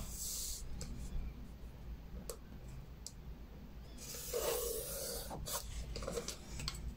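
A marker or chalk rasps across fabric drawing a straight line, with short scratchy strokes at close range and a longer rubbing stretch near the end, no talk.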